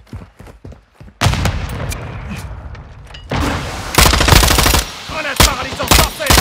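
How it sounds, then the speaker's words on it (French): Frag grenade thrown and exploding in Call of Duty: Modern Warfare II 2022 hardcore multiplayer, among loud bursts of gunfire and heavy blasts that come in several strong waves and keep going. "Frag lancé."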